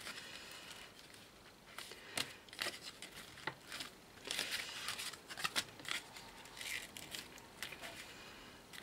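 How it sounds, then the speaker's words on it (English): Scissors snipping excess silky organza ribbon on a handmade dance card, with quiet crisp snips and ribbon rustling in irregular bursts at close range. "then just snip the excess off"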